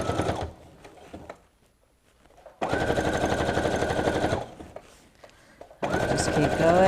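Sewing machine running in two steady bursts of fast, even stitching along an apron strap, with quieter pauses and a voice talking between runs.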